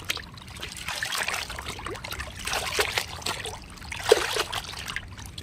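Saree petticoats are swished and rinsed by hand in water, making a close trickling and splashing sound in uneven surges with brief louder sloshes, no voices present.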